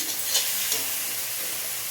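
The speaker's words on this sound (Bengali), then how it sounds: "আদা রসুনটা ভাজা ভাজা হয়ে গেছে" Ginger and garlic paste fries in a pan with a loud, even sizzle and a couple of brief stirring knocks early on, no talking.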